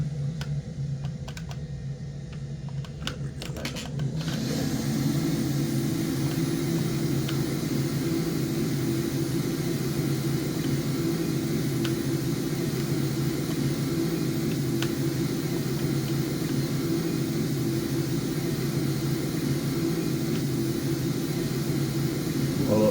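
Alpha Jet cockpit roar during a high-speed flyover of the three-mile shuttle runway on the Space Coast, a steady loud broadband jet drone that holds without a break after a quieter opening few seconds.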